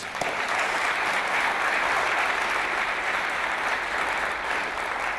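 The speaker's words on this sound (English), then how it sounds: "Another big round of applause for all 14." A room of audience members applauds after a set of business pitches at a Pitch@Palace event in Newcastle, a broad, even roll of clapping that stays full and steady throughout, easing only slightly toward the end.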